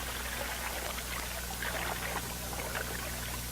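Water poured over M16A1 rifle parts to wash them in the field, a steady, faint trickling stream with a low background hum throughout.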